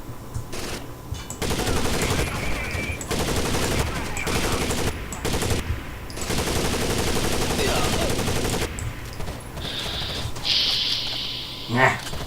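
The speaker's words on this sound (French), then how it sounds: "Il y en a un qui me tire dessus" Gunfire in the video game Rainbow Six Vegas 2 comes in loud, sustained automatic bursts broken by brief gaps, ending in quieter, sharper effects.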